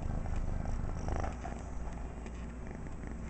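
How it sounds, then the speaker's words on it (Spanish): A cat purrs close and steady, with a continuous low rumbling drone throughout and no other sounds over it. "¿Tienes el motor prendido, gato?"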